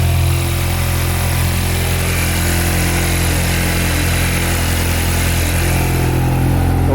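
A VW Golf R MK8 engine with a hybrid turbo running steadily after restarting, a loud continuous idle drone with strong low rumble filling the whole stretch, no voices over it.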